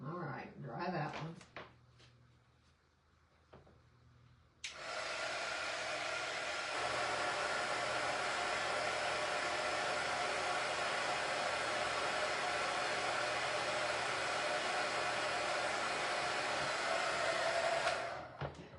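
A hand-held hair dryer drying a freshly painted sunflowers-and-acorns craft piece. It switches on after a few seconds of quiet handling noises and then blows as a steady, close rushing hum before cutting off near the end.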